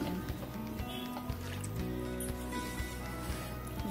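Water pours into a pan of sugar on a gas stove for malpua syrup, a steady close splashing and gurgling trickle that runs throughout.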